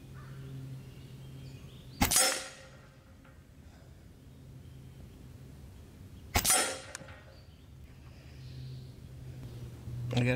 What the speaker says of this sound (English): We're gonna shoot a magazine of Crossman Premieres.